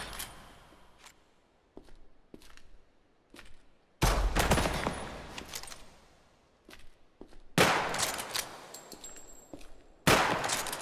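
Gunfire from the player's weapon in a permadeath shooter game on master difficulty: scattered single shots early, then loud bursts of rapid automatic fire in three heavy volleys separated by short pauses.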